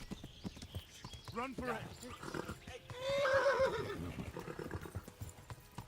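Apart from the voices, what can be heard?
horse galloping in video game Kingdom Come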